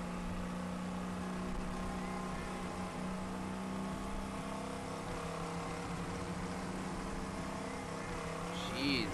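Race cars in the video game GRIP, a steady droning engine whine with layered tones that holds throughout at moderate level, ending in a brief rising rev.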